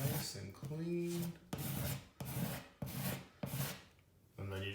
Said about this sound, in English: Scrape it away, nice and clean,